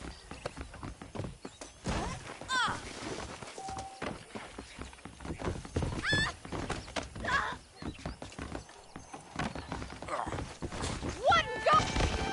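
Saddled horses in Red Dead Redemption clip-clop and whinny at a moderate distance while someone talks over them. Hoofbeats and snorts recur through the scene.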